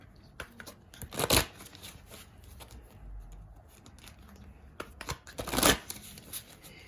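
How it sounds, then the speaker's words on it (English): Vintage Oracle cards are shuffled and drawn in a quiet room, two distinct bursts of riffling with faint handling rustles between them. "I'm going to pull a couple from the Vintage Oracle card."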